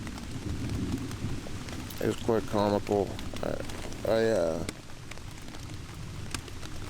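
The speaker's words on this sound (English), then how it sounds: "It started raining about" Rain patters steadily on a tent during solo kayak camping on the Cashie River, a continuous hiss heard under a man's speech.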